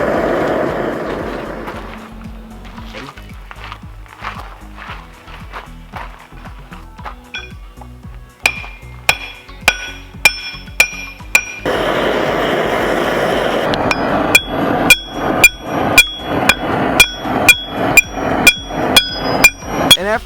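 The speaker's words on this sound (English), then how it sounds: "do another flattening session with the hammer" Sharp metallic hammer blows ring out while flattening a hot steel bolt during forging, first scattered and uneven, then settling into a steady, loud rhythm of clanging strikes.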